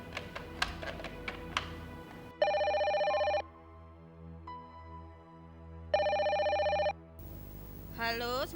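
Phone ringing on an outgoing call in an Indonesian drama scene: two long electronic ring bursts separated by a pause, loud and clear, with a short murmur of talk before and a faint voice after.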